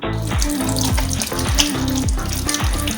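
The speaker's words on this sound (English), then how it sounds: "I have to wash my hands because of germs." Tap water runs steadily into a kitchen sink while hands are washed beneath it, a close, continuous splashing rush with no talk.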